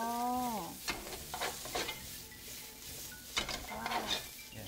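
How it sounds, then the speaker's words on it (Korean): Raw ingredients stir-fried in a large pot for a Japanese home-style dish, with a steady close sizzle, scraping stirs and clinks of a utensil against the pot, and no talking. "날 것을 넣어가지고 이런 식으로 볶아요"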